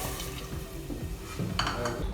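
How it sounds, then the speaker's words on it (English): Water pours steadily into a pot of moong dal and bhindi, making a continuous close splashing gurgle whose pitch shifts as the pot fills, with no talking. "Now add water. Here we have added 3 bowls of water."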